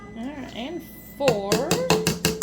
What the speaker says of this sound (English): or whisking that sugar in it so we can see how it is